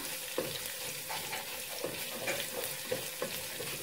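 Chopped onion and green chili sizzle in a pan of frying garlic, a steady hiss broken by repeated scraping strokes of a spoon as the mixture is stirred, close and fairly quiet.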